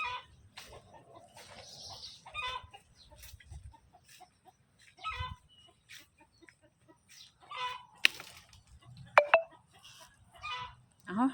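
Free-ranging chickens cluck and call sporadically at a farm by rice paddy banks, short scattered bursts near and far, some sharp squawks, with faint background talk and other fowl noises.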